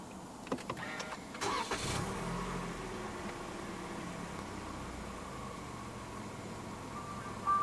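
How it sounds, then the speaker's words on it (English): A 2023 Toyota Camry 2.5 with push-button start cranks and fires, with a short starter whir followed by a steady, quiet idle that carries on to the end. "Put your foot on the brake and press the start button to the right of the steering wheel."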